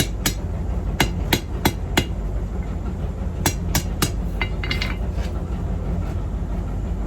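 Hammer blows beveling a steel parent bar while forging riveted tongs, a sharp ringing strike repeated in uneven bursts of several close hits with brief pauses, over a steady low background rumble.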